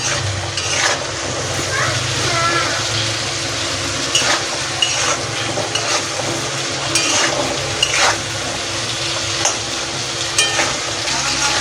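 Potatoes and water chestnut sizzle continuously in hot oil in a pan, with repeated stirring scrapes and light metallic taps of a spatula, close and loud throughout.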